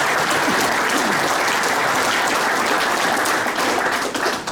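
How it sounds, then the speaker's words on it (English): Loud, dense applause from a large audience at the 2024 Pro Football Hall of Fame enshrinement festival, steady and continuous throughout the short stretch with no voices on top. "Let's give them another round of applause."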